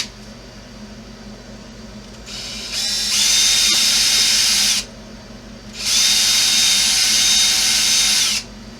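Power drill boring a hole in the wheel of a Kyosho Blizzard RC snow plow, two loud whining bursts of a few seconds each with a brief pause between, close up and without talk.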